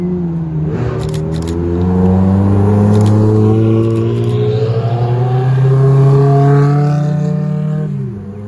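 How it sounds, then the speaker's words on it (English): Hypercars rolling into a car meet, with a loud, close engine droning steadily and swelling in revs for several seconds before easing off near the end, outdoors with no talk over it. "Oh, looks like we've got a couple of cars coming here."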